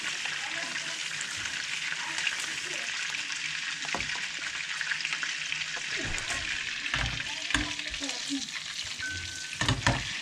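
Food frying in a pan in a home kitchen keeps up a continuous hissing sizzle, broken by scraping and clinks of stirring, with a faint voice now and then.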